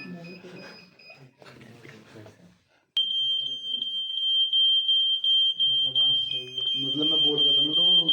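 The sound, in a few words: smoke alarm ringing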